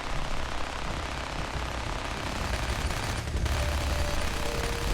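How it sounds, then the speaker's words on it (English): Gunfire in the video game Fallout 4: a dense, steady rattle of shots that fills the whole stretch at an even, fairly loud level, with no voices over it. "I'm hearing lots of like gunfire or something"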